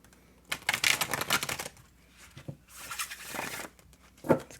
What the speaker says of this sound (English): it makes a beautiful breathy sound as it bridge shuffles